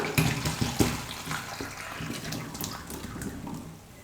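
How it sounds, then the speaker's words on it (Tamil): Water from boiled cauliflower pours and splashes steadily through a strainer, a close, continuous rushing with scattered drips and clinks. "இப்போது ஒரு வடிகட்டி வச்சு நம்ம வடிகட்டி எடுத்துக்கலாம்"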